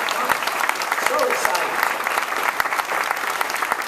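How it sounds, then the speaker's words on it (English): Audience applauding young kids at the opening of the new Algiers Regional Library in New Orleans, a sustained, fairly loud burst of many hands clapping with crowd voices underneath. "Give all those young kids a round of applause."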